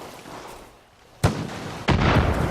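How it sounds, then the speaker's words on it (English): Two sharp gunshot-like bangs from the video game Far Cry New Dawn, a second apart, cut through a quiet background, each leaving a brief noisy tail. "I hear gunfire."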